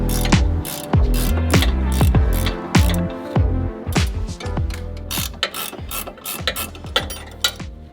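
A 14mm wrench loosens a sway bar nut on a Mazdaspeed3, giving a close series of sharp ratcheting clicks in uneven bursts with short pauses between them.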